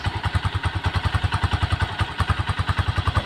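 A Honda TMX motorcycle engine runs close by with a steady, rapid thumping putter and mechanical clatter at an even idle-like rhythm throughout.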